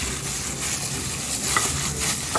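Burger mince is worked together with garlic-ginger paste and salt, a dense, continuous wet squishing and rustling that sounds close and steady for a couple of seconds.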